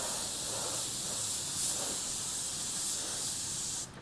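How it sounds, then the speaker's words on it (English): An airbrush sprays paint around the edge of a template laid as a mask on a rock painting, a steady unbroken airy hiss held for several seconds that cuts off abruptly near the end. "Okay, so now laying our template into place, just going to spray around the edge of it."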